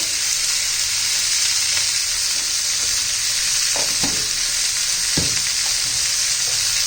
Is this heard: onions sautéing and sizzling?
yes